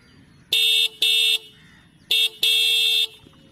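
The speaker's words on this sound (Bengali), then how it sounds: "ইঞ্জিন রেভ করার পর এবার হর্নটা দে।" A Minda D70 Pulsar-type horn mounted on a Honda Shine BS6 motorcycle honks four loud, nearby blasts in two quick pairs, bright and buzzy, the last one held longest, with faint idle noise underneath.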